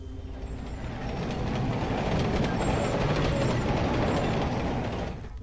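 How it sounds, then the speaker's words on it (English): A train rumbles past in the game Carrier Command: Gaea Mission, a steady, loud clickety-clack roar of rail wheels that swells and holds for several seconds before easing off, with no voices over it. "Wait, train."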